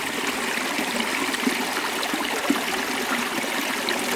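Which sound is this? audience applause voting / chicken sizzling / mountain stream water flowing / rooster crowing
mountain stream water flowing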